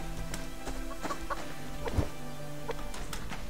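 Chickens in the survival game Subsistence cluck in short, scattered bursts over a low, steady background hum. The calls are fairly quiet and come from close by.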